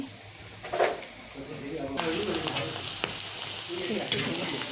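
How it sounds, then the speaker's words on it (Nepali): Ground spices frying in a pan while making goat sukuti pickle, a steady crackling sizzle that grows louder partway through, with faint stirring scrapes and a voice talking softly under it. "मजाले भुट्ने यसलाई"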